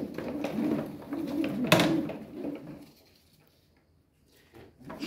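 Racing pigeons coo softly in a loft, several low throaty calls close by with a brief clatter midway, fading to near silence before a faint call at the end.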